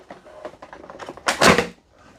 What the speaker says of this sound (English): we'll watch that little door open up